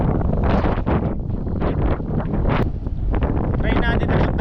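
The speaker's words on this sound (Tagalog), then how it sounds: "sa sobrang lakas ng hangin, hindi natin kakayanin na magpalipad ng drone" Strong coastal wind at the Bangui windmills by the sea, roaring and buffeting the microphone in a dense, continuous rush with gusty surges and no pause throughout.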